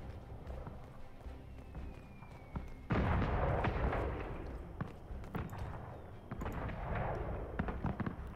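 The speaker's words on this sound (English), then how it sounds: "Wait, is there fireworks happening?" Fireworks going off during the finale of the video game Dragon Age: Inquisition, a sharp loud burst followed by crackling, booming explosions that rise and fade repeatedly, with faint background game audio.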